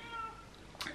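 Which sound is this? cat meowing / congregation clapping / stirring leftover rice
cat meowing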